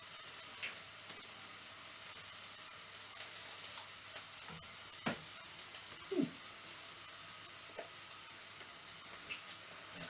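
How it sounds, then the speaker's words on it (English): Onion and garlic sizzling in a hot wok, a steady soft frying hiss with a few brief clinks and stirring knocks, fairly quiet and with no talk. "The onion and garlic been cooking for a little while."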